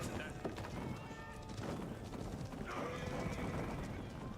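In Age of Empires IV, horse archers' horses gallop past with a busy patter of hoofbeats and a whinny, mixed into dense game noise and faint talk.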